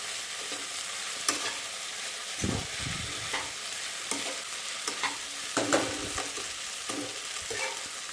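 Sabudana khichdi sautéing in a pan, a continuous close sizzle broken by scraping stirs and the clatter of a spoon at irregular intervals.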